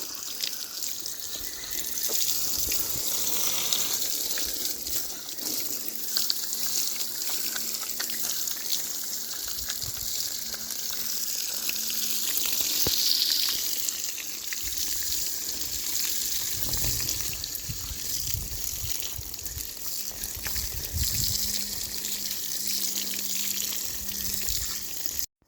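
Water sprays steadily from a hose while a horse is showered outdoors, a continuous hiss with splashing variations over about twenty-five seconds and no talking.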